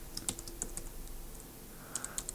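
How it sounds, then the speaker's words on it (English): Typing on a computer keyboard to enter a machine-language program, scattered crisp key clicks in two loose bursts, fairly quiet, over a steady low hum. "I'm almost done typing this up"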